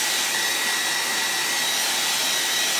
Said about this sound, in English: I'm just going to hit this with a blow dryer real quick.